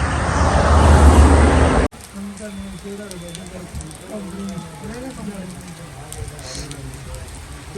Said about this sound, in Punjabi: ਮੀਂਹ ਬਹੁਤ ਜ਼ਿਆਦਾ ਹੋ ਗਿਆ